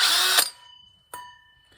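A power drill bores sound holes into a cigar box guitar, a short loud burst of drilling that ends abruptly, followed by a quieter ringing tone and another brief motor blip.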